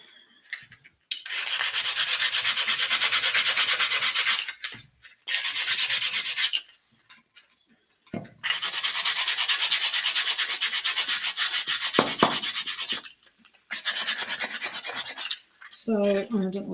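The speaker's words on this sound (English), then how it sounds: "now we want to give it a little bit of a sand in places to make it just look a bit rustic" A painted picture frame is hand-sanded to give it a rustic look, making rough, rasping strokes in several sustained bursts with brief pauses between them.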